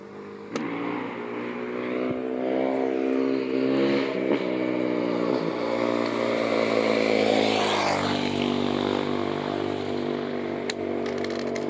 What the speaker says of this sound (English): I don't know if that was a motorcycle or a quad